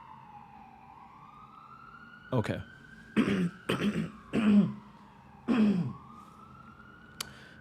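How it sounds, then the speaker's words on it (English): An ambulance siren wails in a long rising and falling tone as it passes, moderately loud throughout, while a man coughs and clears his throat and briefly speaks over it. "All right, let's wait for the ambulance."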